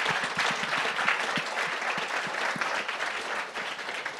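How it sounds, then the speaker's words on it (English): An audience claps for panelists at an evening NFT art talk, dense steady applause with a few individual hand claps standing out near the front, no voices over it. "Let's give a round of applause to our amazing panelists tonight."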